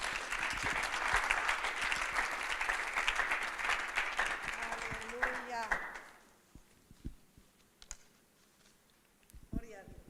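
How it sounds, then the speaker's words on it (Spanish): A church congregation claps for God during a service, loud dense applause that lasts about six seconds, with a voice rising over it. The clapping then stops, leaving quieter room noise, scattered knocks and brief speech. "De un fuerte aplauso a nuestro Dios."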